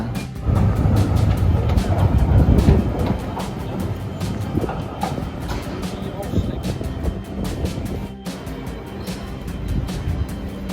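A tram rumbles past amid continuous city street noise, with rattling and clacking over a steady low roar.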